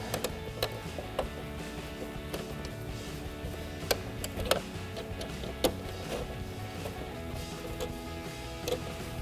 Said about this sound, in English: Once again, it's a T15 Torx driver.